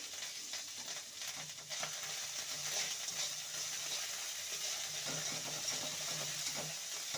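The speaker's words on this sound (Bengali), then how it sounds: "আদাটা ছিটকাচ্ছে বলে লবণটা দিয়ে দিলাম একবারেই" Ginger fries in a pan for a bitter gourd dish, giving a continuous loud sizzle with crackling spits and pops throughout, with no voices.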